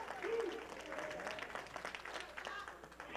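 A wrestling crowd at an indoor independent show applauds and cheers in a steady, moderately distant wash of clapping, with a commentator talking over it.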